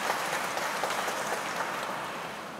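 A large audience gives warm, sustained applause at a Taiwanese military event honoring navy underwater welders and other service craftsmen, a dense steady patter of many hands throughout.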